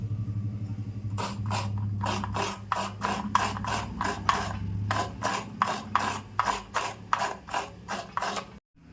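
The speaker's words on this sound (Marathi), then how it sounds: "हे मी थोडंसं ओलं खोबरं घेतलं आहे. तर मी आता किसून घेते." Fresh coconut is grated by hand for a Malvani tomato curry, giving a steady run of about fifteen close, crisp rasping strokes over a low, constant background hum.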